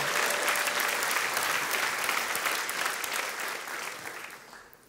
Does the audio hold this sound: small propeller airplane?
no